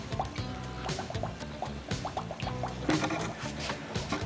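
HHO dry cell making gas, liquid bubbling and dripping in quick irregular plops and pops, faint and close with no talking.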